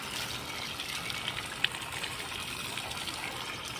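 Water gushes in a steady, fairly soft stream while a clay pot is washed inside and out, with one small clink partway through.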